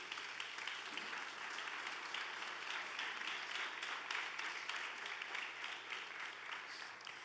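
A church congregation applauding for a long stretch, dense steady clapping from many hands filling the room, fairly even in loudness throughout.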